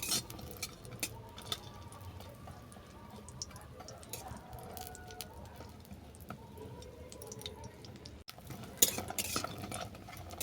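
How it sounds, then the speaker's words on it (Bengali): Bori lentil dumplings fry in hot mustard oil in a kadai, with steady low sizzling and the faint scrape and clink of a spatula stirring them, continuous and fairly quiet with a sharper knock near the end. "বড়িটাকে নেড়ে ছেড়ে বাদামি করে ভেজে নেব"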